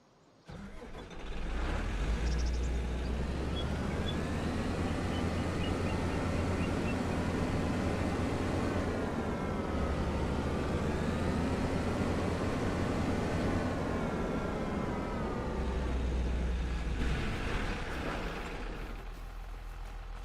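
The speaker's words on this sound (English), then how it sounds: "I love the startup sound of this tractor." A tractor engine in the video game Farming Simulator 25 cranks and catches, then settles into a steady, loud low diesel rumble that holds for most of the clip before easing slightly at the end.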